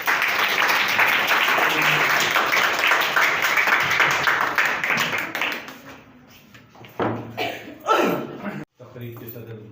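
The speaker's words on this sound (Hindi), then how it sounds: "आपकी भरपूर तालियों में" Audience applause at an Urdu poetry gathering (mushaira), a dense, steady wash of many hands clapping that fades after about six seconds, followed by scattered claps, chuckles and a voice starting to speak.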